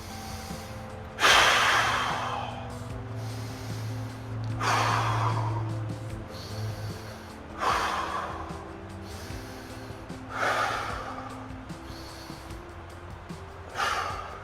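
Deep, slow breaths come close and clear, about five long inhale-exhale cycles with audible gasps and sighs, as someone holds a seated yoga twist with the left leg crossed over the right and a hand gripping the shin.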